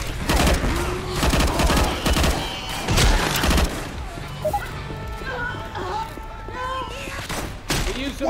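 Gunfire aimed at a Tank in the modded Left 4 Dead 2, with dense bursts of rapid shots over the first few seconds and then scattered shots. Game voices and a player speak loudly throughout the fighting.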